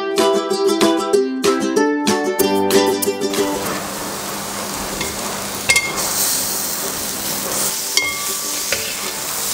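Coriander seeds roast and stir in a hot pan while cooking vegetable tomato mappas, with steady close sizzling and frying crackle. Spoon stirring and scraping come through, with a few faint clinks.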